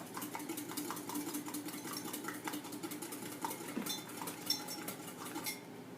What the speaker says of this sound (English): I get the whisk, and I whisk up that egg, just like this